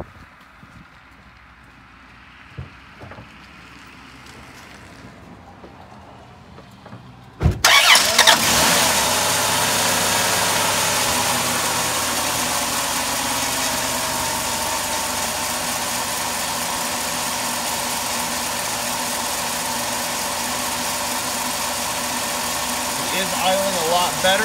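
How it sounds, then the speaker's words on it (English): A Dodge Caravan engine cranks and catches at about seven seconds after a quiet stretch, then settles into a steady, loud, even idle following a throttle body and idle air control cleaning. "we're gonna go ahead and start her back up and see if she idles a little bit better."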